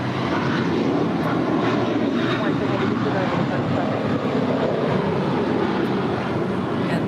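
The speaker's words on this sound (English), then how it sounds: "it's JetBlue Airways 1124 heading to JFK, a 7-year-old A321" A seven-year-old JetBlue Airways Airbus A321 jet roars steadily and loudly at LAX for the whole stretch, a broad continuous engine rush with wind noise over the microphone.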